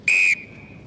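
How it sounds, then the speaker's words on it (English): A rugby sevens referee at a national schools tournament gives one sharp, loud blast of the whistle lasting about a quarter second, then it falls quiet with a faint ringing tail. "Just wait on my whistle again."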